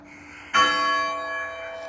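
Church bell of St James, Ansty, tolling noon on an automatic timer: a single strong, clear stroke lands early and its bright metallic hum rings on and slowly decays, alone without talk.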